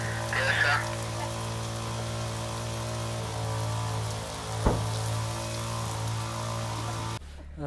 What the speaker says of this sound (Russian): снимаем сцену с дождем, и на деле покажу, как выглядит дождь, как делается дождь в фильме